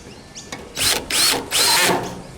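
Power drill driving the last screw into a Blue Mountain gutter guard on a Trimdek roof, three short close whirring bursts with brief pauses between them.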